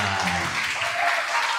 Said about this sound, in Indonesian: Langsung maju, kasih tepuk tangan.